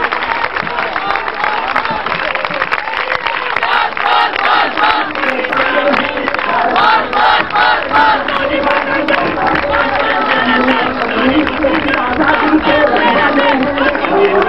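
Crowd at a political rally for Usman Moazzam applauding and cheering, a loud, sustained roar of clapping mixed with shouts and voices rising over the whole stretch.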